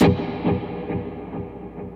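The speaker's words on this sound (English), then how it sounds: "I'm turning on a quarter note delay, and I'm also turning on a hall reverb." A distorted electric guitar note rings out, then fades through evenly spaced quarter-note delay echoes that pulse about twice a second, washed in a long, roomy hall reverb.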